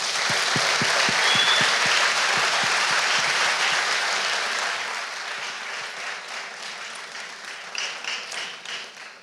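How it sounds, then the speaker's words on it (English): An audience at a medical graduation ceremony gives loud, sustained applause that fills the room, then gradually thins to scattered claps toward the end. "put your hands together and give a big round of applause for all your parents and brothers and sisters"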